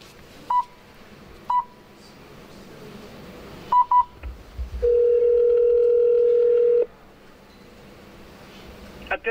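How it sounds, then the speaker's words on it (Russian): An ERA-GLONASS emergency button call connecting to the operator: a few short electronic beeps, then a longer steady tone lasting about two seconds, with faint background noise between them. "Сигнал уходит на пульт управления оператора."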